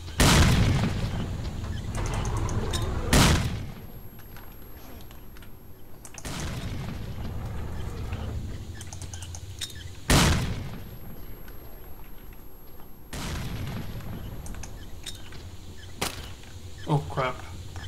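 Grenade explosions in the video game S.T.A.L.K.E.R.: Call of Pripyat, in the Agroprom Underground: several loud booming blasts a few seconds apart, each with a rumbling tail, amid gunfire and game noise.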